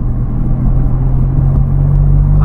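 A Maserati MC20 Cielo's V6 engine hums in a steady, loud, low rumble while the car cruises, a continuous drone heard close up without any speech.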